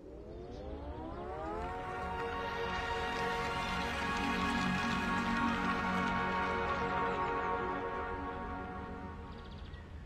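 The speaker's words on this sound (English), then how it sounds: "Here is the sound of our engine." The Fiat 500 la Prima electric car's engine sound: a rising electronic tone swells into a sustained, layered synthetic melody that holds steady, then gently fades, smooth and musical with no voices.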